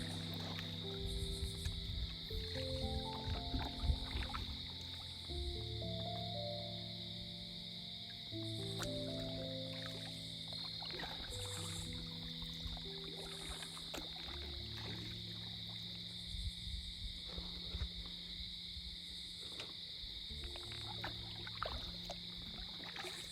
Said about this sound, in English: I paddle quietly around the bend and notice eyes in the spotlight